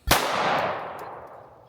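A single sharp Sig P365 X Macro pistol shot cracks out loud and close at a shooting range, followed by a long ringing decay that fades over more than a second.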